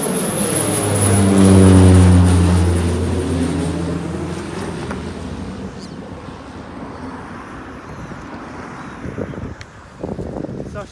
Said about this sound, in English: That's the airport with the plane just taking off from